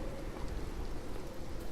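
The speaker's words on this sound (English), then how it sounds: "Oh, in the rain." Soft, even rain falls in the video game Beyond Eyes, a faint continuous patter of drops with no voices over it.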